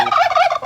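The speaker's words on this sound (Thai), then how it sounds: "เลี้ยงไก่งวงกับไก่" A male turkey on a rural backyard farm kept alongside chickens gobbles once in a loud, close, rapid warbling burst that fills the short moment on its own.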